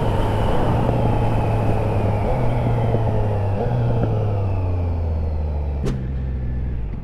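Triumph Trident motorcycle with a Lynx Spark exhaust decelerating on the road, a loud, steady low engine rumble with shifting tones and engine braking, heard close from the rider's position with wind noise, and a brief sharp crack near the end.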